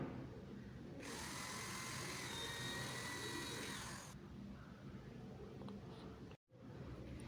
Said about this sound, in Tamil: ஓகே, அடுத்து இப்போ அதான் ட்ரில் போட்டுடலாம்.